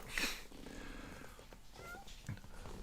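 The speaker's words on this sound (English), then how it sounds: "If you hear any meows, that is my cats now deciding to annoy me" Pet cats at home giving soft meows and purring, faint and intermittent under quiet room noise, with a brief louder cry near the start.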